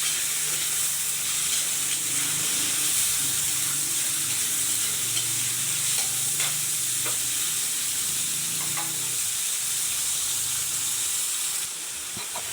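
Chicken sautéing with garlic and onion in a pan for pancit bihon con canton, a steady loud sizzle and hiss with occasional stirring scrapes throughout, no voices.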